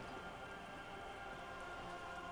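Steady rain patters on surfaces in the video game Disco Elysium, a constant, even hiss of raindrops with no distinct individual drops or speech over it.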